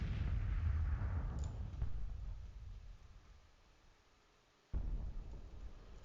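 Artillery fire from the Civil War strategy game Grand Tactician booms in a heavy, rumbling roll that slowly fades, then a fresh deep blast hits near the end, with no voices.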